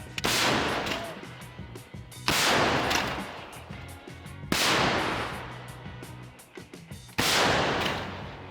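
Captured artillery gun firing repeatedly at a front line in overcast weather, four loud booming shots spaced about two seconds apart, each with a long rumbling decay and no talk.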